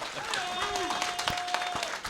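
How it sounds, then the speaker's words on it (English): Audience at a live podcast show applauding the guests, a dense wash of clapping heard under a voice that keeps talking over it. "Give up a round of applause."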